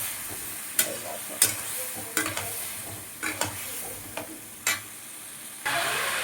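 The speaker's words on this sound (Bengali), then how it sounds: "এটা এখন জল দিয়ে মশলাটা কষাবো ভালো করে সবজিটাকে" Spinach with salt, turmeric and ground cumin being stir-fried in a pan, soft sizzling under a series of distinct scraping and stirring strokes, spaced irregularly, close and moderately loud, no speech.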